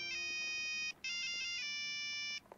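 A cell phone ringtone plays a bright electronic rendition of a Beethoven symphony melody, loud and clear in two phrases separated by a short gap, then cuts off.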